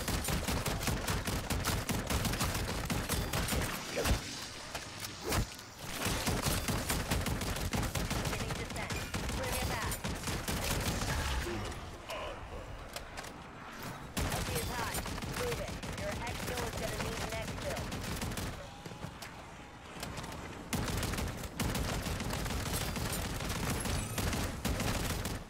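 Shotgun fire in a video game comes as dense, loud, rapid blasts that fill nearly the whole stretch, broken by a few short pauses.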